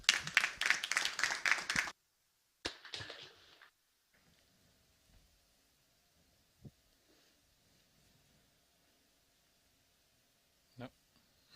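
A tech conference audience applauds as a startup speaker takes the stage, a loud burst of clapping lasting about two seconds, then a brief second flurry, followed by near silence with faint rustling and a couple of soft knocks.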